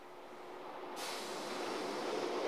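A four-car Kintetsu local train pulls into platform 2 at Hirahata Station, its low rumble growing steadily louder, with a sudden hiss of air brakes about a second in.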